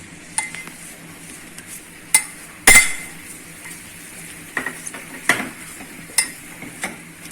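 Chopped small onion mixed in a bowl for a noodle omelette, with a series of sharp, close clinks and scrapes from the utensil against the bowl, spaced irregularly over quiet background.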